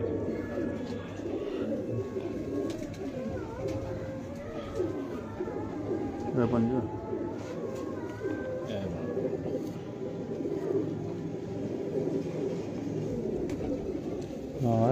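Pigeons coo repeatedly at a breeder's loft among Lal Pari birds, soft rolling calls over constant background bustle, while someone talks throughout.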